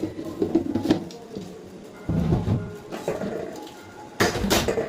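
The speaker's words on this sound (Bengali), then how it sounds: "এই যে বাসন মেজে ধুয়ে গেছিলাম, এখন এগুলো শুকিয়ে গেছে, এগুলো এখন তুলছি" Dried, washed dishes and utensils are picked up, giving scattered clinks and clatters of pots and cutlery in short bursts, close by and fairly quiet, with faint background ambience and no speech.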